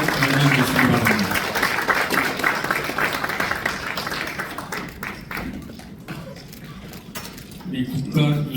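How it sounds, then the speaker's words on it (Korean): Warm applause from an audience at a certificate presentation ceremony in a small meeting room, loud and dense at first, then gradually thinning and softening before swelling slightly again at the end. "여러분 뜨거운 박수로 다시 한번 맞이해 주시기 바랍니다."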